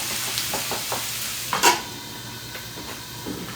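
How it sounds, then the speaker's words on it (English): Frozen onions, about 100 grams, sautéing in a pan: a steady soft sizzle with light stirring scrapes and one brief louder clatter near the middle, all fairly close. "I'm going to saute that up."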